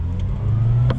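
A Subaru Sambar kei van's rear-mounted engine pulls away from a red light in first gear, a loud, close, steady droning rumble that rises slightly as it accelerates.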